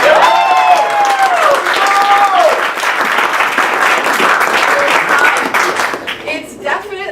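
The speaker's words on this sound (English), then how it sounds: "round of applause for everybody for getting out of bed" An audience applauds loudly and steadily at a live evening performance, dense clapping mixed with some cheers and crowd noise, thinning out toward the end.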